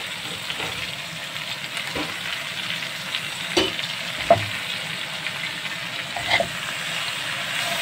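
Shredded cabbage sautéing in a hot pan, a steady loud sizzle and crackle with occasional stirring scrapes and soft knocks of a utensil throughout.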